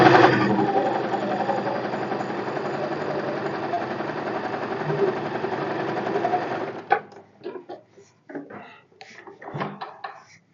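A sewing machine stitches cotton fabric for a sleeve, running loud and continuous for about six seconds before stopping. Short handling noises and brief bits of speech follow.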